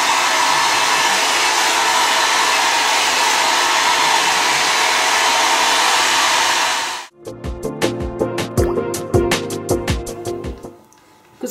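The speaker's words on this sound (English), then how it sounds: "So my blow dry is going to stay in this horizontal way." A hair dryer blows steadily at close range while being used to blow-dry hair, a loud constant whoosh that cuts off abruptly partway, followed by a run of sharp clicks and handling knocks.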